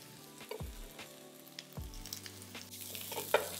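Garlic and ginger fry in about two tablespoons of oil in a wok over high heat, giving a close, crackling sizzle. A couple of metallic clanks and scrapes cut through it.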